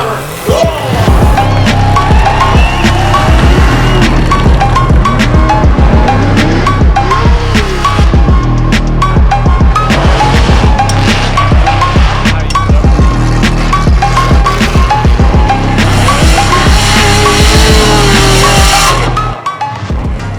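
A BMW E46 Formula Drift car built on a 2004 325i four-door chassis, its engine roaring loud and close with tires squealing in a sustained, dense blast that cuts off abruptly near the end.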